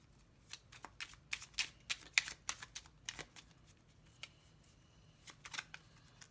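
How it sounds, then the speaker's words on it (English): Quick papery riffles and slaps of tarot cards being shuffled, in uneven bursts with brief pauses, close and fairly quiet. "My shuffling skills are very bad today."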